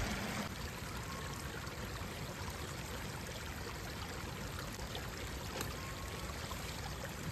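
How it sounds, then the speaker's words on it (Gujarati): A small, very cold mountain stream in snowy forested hills near Rajgunda babbles with a steady, even rush of running water throughout, with no other sounds standing out. "કેવું ઝરણું છે જો, ખળખળ કેવો સરસ મજાનો અવાજ આવે છે"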